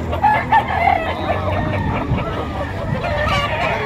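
Chickens at a busy poultry market in Lipa, Batangas, crowing and clucking repeatedly, with several birds calling close by over a steady background of crowd chatter and voices.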